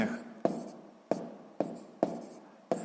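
Pen writing a math exercise on paper, five or six distinct scratchy strokes tapping and scraping close up in an irregular rhythm, with soft speech in between.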